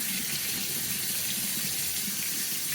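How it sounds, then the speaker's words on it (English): Water runs steadily from a tap, lukewarm, rinsing and soaking a floppy cornhole bag in a sink; a continuous close hiss and splash with no voices. "now we're going to rinse it"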